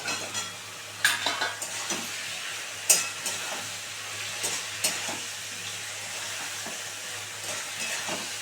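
A rui fish head sautés in a pan with tomato, giving a moderate sizzle broken by several sharp spatula knocks and scrapes against the pan, with a low steady hum underneath.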